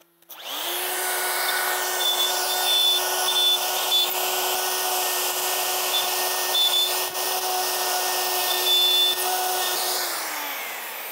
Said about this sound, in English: I like to freehand route out this center section